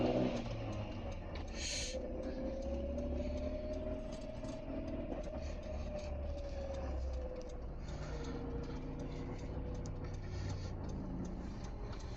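A warmed-up 1998 Chevrolet Tracker engine runs steadily from start to finish, a continuous mid-pitched drone with a faint rising and falling tone, with no talking.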